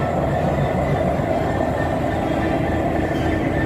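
A GB Railfreight Class 66 diesel locomotive hauls a works train past Willesden Junction, a loud, continuous low rumble and engine drone close by, with no talk over it.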